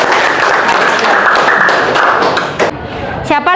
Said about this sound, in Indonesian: Kasih tepuk tangan dulu untuk Rianto.